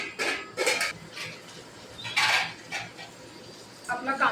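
Onion being stirred and sautéed in a pan until pinkish, with a pinch of salt added, giving intermittent scraping clinks of a spoon against metal in short bursts.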